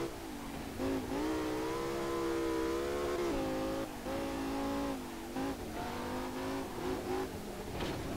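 Audi R8 with a naturally aspirated V10 in the Assetto Corsa racing game on a mountain touge road, a loud, continuous engine howl rising and falling through revs and gear changes, with brief dips between pulls.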